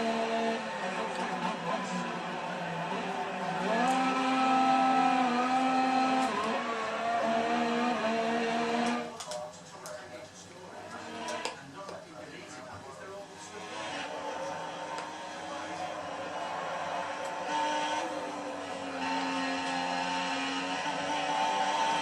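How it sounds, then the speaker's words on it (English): An F1 car's engine, recorded onboard in a racing league at Malaysia through turns 7 and 8, drones with steady harmonic tones. Its pitch dips and recovers around braking and acceleration, and a voice talks over it throughout. "we're on board with Josh Bond, coming into turn 7 and turn 8, nicely on the power"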